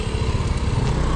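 Motorcycles riding along the road to Tagaytay, with a steady, loud buzzing engine drone close by and no break in the sound.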